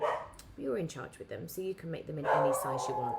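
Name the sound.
dogs barking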